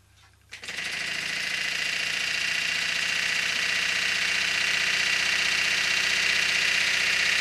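A four-cylinder model engine starts with a sharp click and then runs steadily, a dense, even, buzzing whir close up that holds constant to the end.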